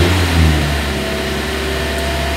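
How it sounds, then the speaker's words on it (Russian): A carburetor car engine running on LPG revs up under steady pressure on the gas pedal, a loud, continuous, close engine roar with rising and sustained revs and no talk. "вон видно, что я жму педаль газа, слышно, как обороты ревут"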